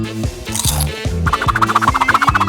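A cartoon hen clucks in an animated story, first a few spaced low squawks, then a fast, rhythmic run of loud clucks close up, with no talking.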